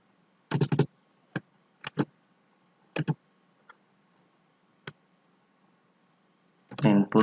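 Keystrokes on a computer keyboard while coding a web login page, sparse clusters of clicky taps with pauses between, close and fairly quiet.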